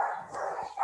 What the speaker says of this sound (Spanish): perdón por los perritos, pero son mis fieras